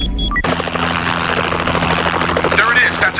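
A helicopter flies overhead in a movie scene, its rotor beating loud and steady after an abrupt start, with voices speaking over it.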